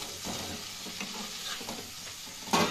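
Pre-fried chicken pieces for chilli chicken added to a sizzling pan of sauce and stirred, with scraping and shuffling over a soft frying hiss and a louder scrape near the end.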